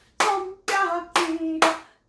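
Four crisp hand claps ring out close and alone, evenly spaced about half a second apart, during a seniors' recreation exercise at a Korean welfare center.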